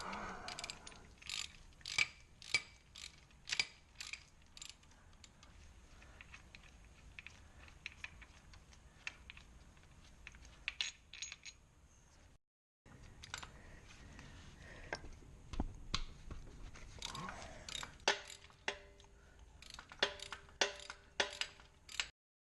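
A ratchet removes 13mm bolts from the oil pan of a 2000s Mini Cooper R53, with bursts of quick clicking and metallic clatter and one short pause, up close and fairly quiet, with no talk.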